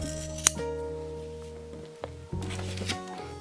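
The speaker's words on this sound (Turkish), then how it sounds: "Bunu da şuradan kesiyorum." Scissors cut macrame keychain cord up close, a crisp snip at the start and a couple of softer clicks later, heard over quiet music with no talk.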